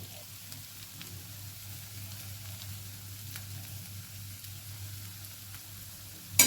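Potato fry crackles in a pan with a soft, even sizzle that runs throughout at low volume, ending in a brief louder knock.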